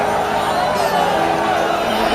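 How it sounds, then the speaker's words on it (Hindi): A huge crowd of devotees at the Mahakumbh on Basant Panchami makes a steady, dense hubbub of many voices, continuous and fairly loud throughout. "महाकुंभ में बसंत पंचमी पर उमड़ी श्रद्धालुओं की अपार भीड़"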